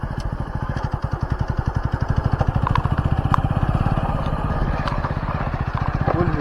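A motorcycle runs steadily and close, its engine giving a fast, even pulsing throttle with some rattle throughout, and no voices are heard over it.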